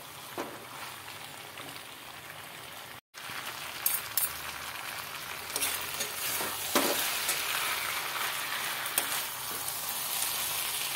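Wheat flour breakfast snack sizzling in a pan, a steady moderately close fry with occasional scraping stir sounds, a brief dropout near the start, and the hiss growing slightly louder toward the end.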